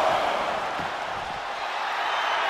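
Arena crowd noise from a WWE 2K24 wrestling match as Rhea Ripley works the audience: a steady, dense roar of cheering spectators, fairly loud and continuous throughout with no talk over it.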